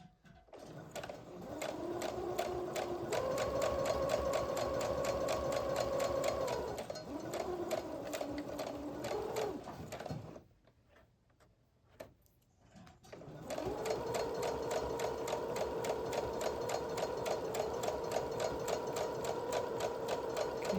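A sewing machine chain-stitches quilt fabric pieces for a patchwork jacket, running in long steady bursts with a brief pause midway before stitching resumes, close and alone.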